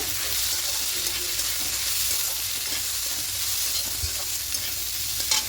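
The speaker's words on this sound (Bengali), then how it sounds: "কিশমিশটা দেবো এবার কাজুটা দেবো খুব ভালো করে মিশিয়ে নেব" Vegetables with soaked raisins and cashews for vegetarian fried rice are stirred in a hot pan, a constant close sizzle with soft scraping strokes and an occasional light knock of the spoon.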